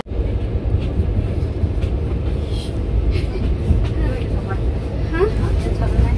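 Mysore–Howrah weekly superfast express rolling into a platform on the main line at an Indian railway station, a loud continuous rumble of wheels and carriages under a busy crowd with people talking.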